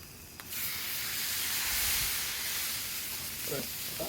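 Shrimp slid onto a buttered hibachi griddle at home set off a steady, close hiss of sizzling that swells and holds for several seconds, with a brief clatter near the end.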